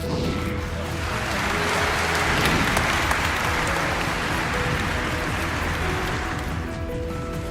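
Thunderous applause from a large audience at an award ceremony honouring a celebrated athlete, a dense sustained roar of clapping throughout with no talk.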